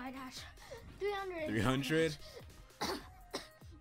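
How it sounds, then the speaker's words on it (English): Someone nearby gives a few rough coughs and throat-clearing sounds, mixed with short bursts of voice. "He's coughing."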